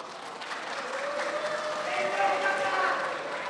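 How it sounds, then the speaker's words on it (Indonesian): An audience at a 2015 Kutai Barat regency candidates' debate breaks into steady, dense applause that holds at an even level for a few seconds, with a voice faintly present. "mari kita memberikan tepuk tangan untuk calon nomor urut 2"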